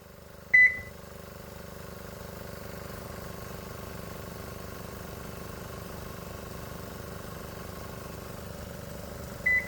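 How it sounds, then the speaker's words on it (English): A gasoline 420 engine drives a golf cart on a road test, humming as a steady, moderately loud drone with a short beep at the start and another at the end. "Now let's try the 420 engine"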